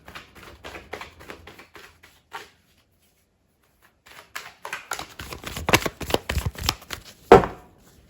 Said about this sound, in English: gonna shuffle over here a few more times.